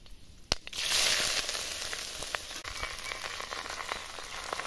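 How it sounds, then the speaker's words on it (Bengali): Rice sizzles in hot ghee and white oil with bay leaves and whole garam masala for Bengali basanti pulao, a steady crackling fry with sharper pops and stirring scrapes, moderately close and without talk. "চালগুলো আমি ভাজি নিচ্ছি"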